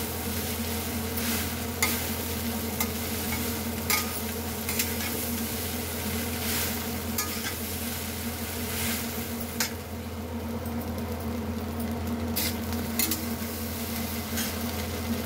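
Potato poha is stirred in a pan over a steady soft sizzle, with scattered light scrapes and taps of a spoon against the pan, close and with no talking.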